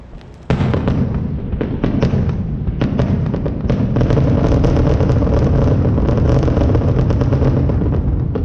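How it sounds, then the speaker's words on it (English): Dense, continuous fireworks crackle and boom, a sustained barrage of overlapping bursts that starts abruptly and stays loud throughout. "Right now, everybody watching these fireworks"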